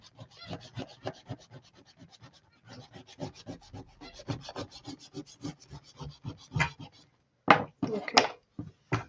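An eraser rubs out colour-stick marks on paper in quick, repeated back-and-forth strokes, soft and close, in bursts with short pauses between.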